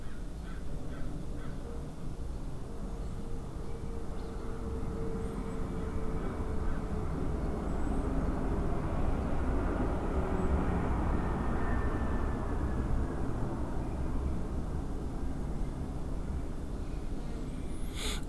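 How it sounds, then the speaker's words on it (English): A broad, steady roar of an airplane coming in overhead, swelling gradually and fading, with a few faint bird calls in the background. "of course there's an airplane coming in"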